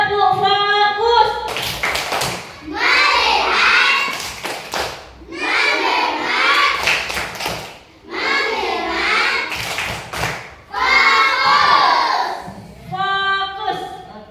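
Children in a classroom clapping a rhythmic tepuk fokus chant, loud bursts of patterned claps and shouted chanting in several rounds separated by brief pauses, with a teacher's voice leading between them.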